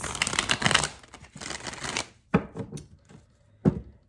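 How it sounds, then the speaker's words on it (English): A deck of cards is riffled and shuffled up close, with fluttering bursts followed by a few sharp taps and snaps. "2 more shuffles"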